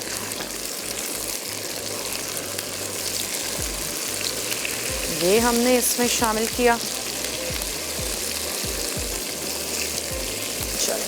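Boiled mutton frying in a pot with garlic and ginger for balti gosht, a steady loud sizzle throughout with scraping stirs in the middle, while someone speaks briefly over it.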